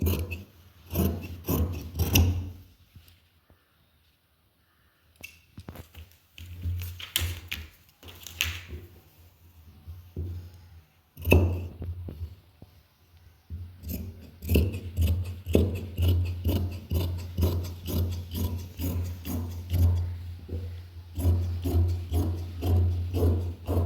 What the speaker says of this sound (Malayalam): നമുക്ക് ഇവിടുന്ന് സ്ലീവും കട്ട് ചെയ്ത് മാറ്റാം.